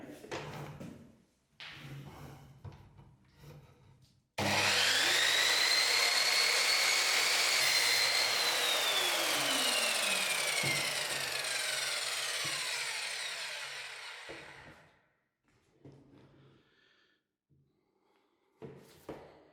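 A saw cuts an angled bevel through an MDF skirting board, a loud sustained rasping run of about ten seconds that fades out, framed by quieter handling knocks before and after.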